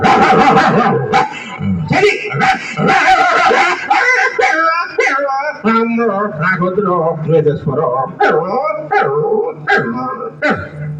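A voice imitates a dog, loudly barking, yipping and whimpering in quick bursts, close to the listener.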